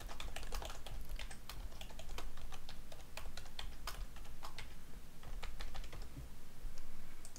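Steady close-up clatter of typing on a computer keyboard while an address is entered, rapid irregular keystrokes in bursts over faint room hum, with no talking.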